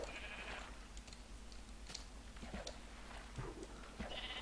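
Sheep in a Minecraft video game bleat softly a few times over steady game ambience, with faint clicks and movement noises between the calls.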